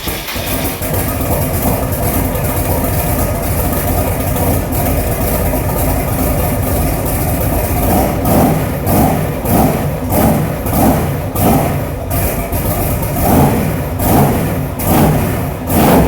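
Old big block V8 idling with a loud, lumpy rumble, then revved in a series of rhythmic blips that swell and fall back, close and alone without talk.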